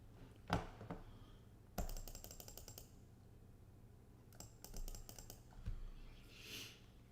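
Computer keyboard typing during a day-trading live stream: quick bursts of clicking keys, a few sharp taps then two clustered rattling runs, close to the mic in a quiet room with no talking.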